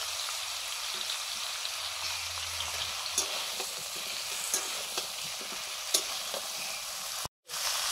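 Flat beans dropped into mixed winter vegetables frying in a wok give a steady, close sizzle, with a few scraping stirs and clinks scattered through before a brief cut near the end.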